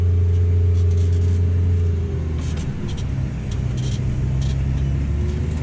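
A 300hp tractor pulling a dung spreader, a loud close low engine drone that drops in pitch midway and settles into rougher rumbling with some clanking on top.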